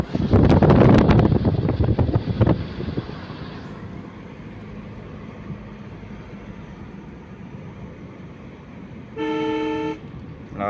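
A car horn honks in one steady blast of about a second on a winding mountain ghat road near Rapur, after a loud, rumbling stretch of vehicle and wind noise.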